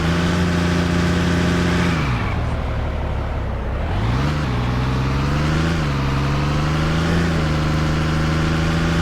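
A car engine in a video game drones loud and steady, its pitch dipping and climbing as it slows and revs up again, with a few smaller shifts in engine tone; constant and close throughout, with no talk.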